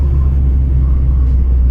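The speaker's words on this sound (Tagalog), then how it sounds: "Maririnig mo yung huni ng SIR eh." Engine of a 2000 Honda Civic SiR driving on a rainy night in Quezon City, heard from inside the car as a loud, steady low rumble.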